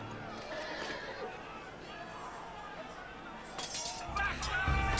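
A horse neighs in the Game of Thrones game, Episode 1 "Iron From Ice", a loud whinny rising near the end over a busy background of crowd chatter and clatter.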